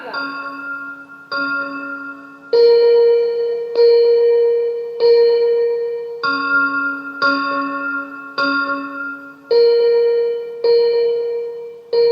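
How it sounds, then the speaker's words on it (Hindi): Temple bells ringing in a slow, steady series of about a dozen clear, sustained strikes, each tone ringing out and overlapping the next, heard alone without talk. "उस मंदिर की घंटियां सुनाई दे रही हैं।"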